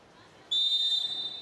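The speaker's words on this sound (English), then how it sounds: "Waiting for that final whistle from our first referee." A referee's whistle at a professional volleyball match blows one sharp, sustained shrill blast that starts abruptly and holds for about a second over faint arena background.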